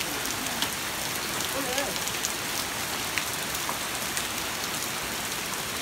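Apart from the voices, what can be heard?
large hail falling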